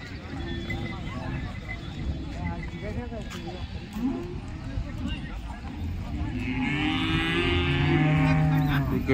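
At the Modnimb cattle market, a cow gives a long moo toward the end, heard over steady crowd bustle and nearby people talking.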